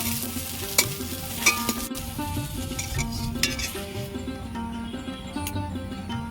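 Okra is frying in hot oil, making a steady close sizzle while it is stirred. Scattered clinks of a utensil against the pan punctuate the sizzle, part of cooking a festival offering thali for Janmashtami.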